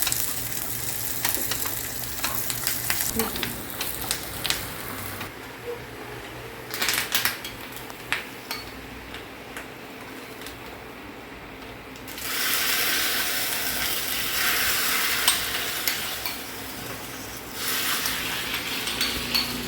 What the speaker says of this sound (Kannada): ನೀರುಳ್ಳಿ ಮತ್ತು ಬೆಳ್ಳುಳ್ಳಿ ಮತ್ತು ಬೇವು ಸೊಪ್ಪು ಹಾಕಿ ಒಗ್ಗರಣೆ ಇದಕ್ಕೆ